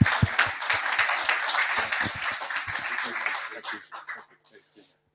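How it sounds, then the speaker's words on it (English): An audience gives a round of applause at a startup talk, a burst of clapping mixed with voices that thins out and fades toward the end. "And one more round of applause,"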